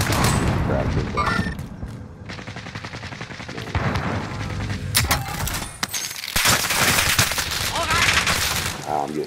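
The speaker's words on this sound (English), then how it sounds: "I'm getting shot from Nova building" Dense gunfire from a Call of Duty: Modern Warfare match, with rapid automatic bursts and single shots rattling almost without pause, loud and close, while players talk over the shooting.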